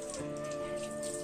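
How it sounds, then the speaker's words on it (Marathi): Light, fine drizzle patters softly and evenly outdoors where clothes are being washed, a brief stretch of gentle rain over a low steady hum, with no talk. "बारीक बारीक पाऊस पडतोय"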